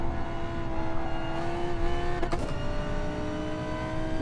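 Race car engine in Gran Turismo Sport accelerating hard, a loud sustained high-revving drone that climbs steadily, with a brief gear-shift dip midway before pulling on strongly.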